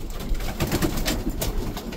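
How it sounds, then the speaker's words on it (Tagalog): Pigeons cooing in bitter cold around minus 39, a couple of soft, low, rolling coos close by over a faint background hiss. "Mga ibon natin, hirap."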